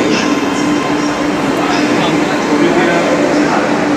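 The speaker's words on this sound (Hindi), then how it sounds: "उधर से दूसरी भी मेट्रो आ रही है" A second Lucknow Metro train approaches along the platform, its even rumbling roar holding steady and close for several seconds, with scattered voices of people talking beneath it.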